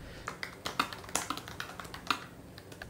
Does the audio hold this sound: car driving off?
no